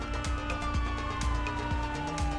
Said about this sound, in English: Bullets flying, sirens blaring, the whole thing starts falling apart